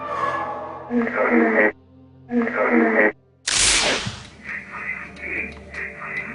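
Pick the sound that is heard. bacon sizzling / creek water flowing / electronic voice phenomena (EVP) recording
electronic voice phenomena (EVP) recording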